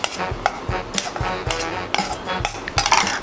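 Soap ingredients mixed in a container give a steady series of sharp clinks and taps, roughly twice a second, close and fairly loud with no talk.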